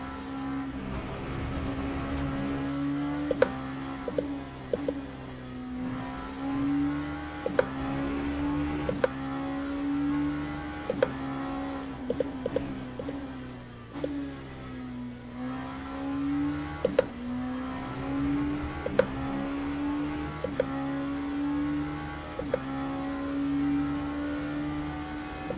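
Race car engine in the sim racing game Le Mans Ultimate, a continuous droning engine note rising and falling with throttle, punctuated by sharp upshift clicks and pops, heard alone.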